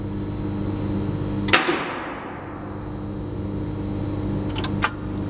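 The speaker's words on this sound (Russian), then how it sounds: "Видите, идет как будто на включение и тут же срывается." A BB/TEL-10 vacuum circuit breaker fails to switch on, giving a sharp mechanical clack followed by a falling whine as it drops out, then two quick faint clicks later over a steady electrical hum.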